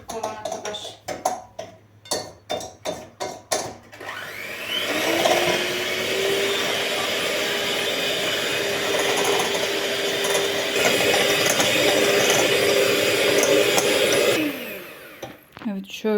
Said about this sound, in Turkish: Bunları bir güzel çırpacağım.